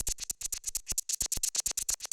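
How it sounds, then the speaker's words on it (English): A breakbeat loop runs through an auto filter whose frequency is swept by a fast shaper, making a rapid chain of bright, clipped hits in a quick stuttering rhythm with no voice over it. "We can automate that without having to drag it ourselves using a shaper"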